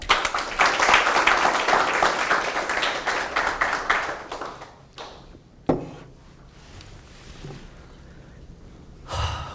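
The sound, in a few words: audience applause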